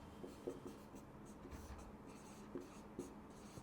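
Chalk or marker writing on a board during a physics lecture, soft scratchy strokes with a few sharper taps, steady and fairly faint in a quiet room.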